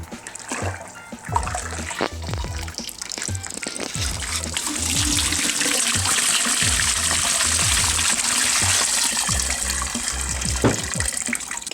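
Sparge water pours onto a grain bed during all-grain brewing of a Belgian Tripel, a close, steady gushing splash that starts with some handling knocks and then runs continuously, growing fuller midway.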